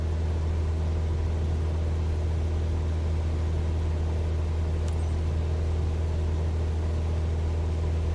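Steady droning aircraft engine in Microsoft Flight Simulator 2024, a constant low hum climbing out after takeoff from runway 21, with one brief faint tick midway.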